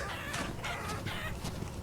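Chickens cluck in the video game Vintage Story, a short run of several close, choppy clucks over a snowy village scene with nothing else competing.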